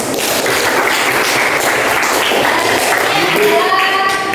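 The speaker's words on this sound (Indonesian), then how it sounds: "Tepuk tangan." A classroom of students claps for a classmate's answer during a lesson on prayer: loud, close, energetic clapping that lasts several seconds, with voices breaking in near the end.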